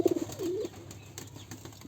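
Pigeons at a pigeon farm give a low warbling coo near the start, followed by quieter rustling and faint background murmur.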